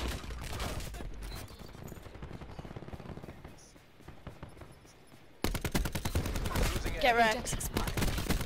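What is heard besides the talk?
gunfire in the video game Call of Duty Black Ops 4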